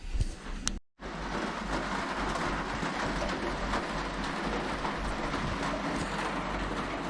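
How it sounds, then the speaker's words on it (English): Steady rain falls outdoors near a boat, a dense, even hiss holding constant after a brief cut at the start, with no wind. "no wind today, but quite a lot of rain."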